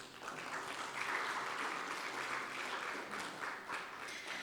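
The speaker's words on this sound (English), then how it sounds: "very special guest, Dr. Pradeep Chintagunta, whom I would like you all to invite with a round of applause" An audience at a live-streamed analytics event claps together in a steady round of applause lasting the whole stretch, moderately loud with no voices over it.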